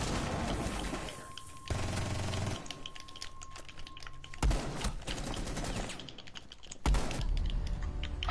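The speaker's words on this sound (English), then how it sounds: "How did I miss that shotgun blast?" Shotgun blasts and rapid gunfire in the tactical shooter Rainbow Six, sharp bursts cutting in and out with clicking, keyboard-like rattles between them, no one talking.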